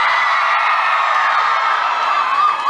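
Crowd of Riverdale superfans at a San Diego Comic-Con 2018 panel, cheering and whooping continuously at close range, a loud dense roar of voices with shrill yells rising over it throughout.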